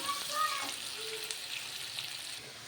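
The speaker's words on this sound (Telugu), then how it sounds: "ఉల్లిపాయలు ఈ విధంగా వేయనియండి" Sliced onions fry in plenty of oil for a mutton and fenugreek dish, making a soft, steady hiss with faint tonal traces in the background.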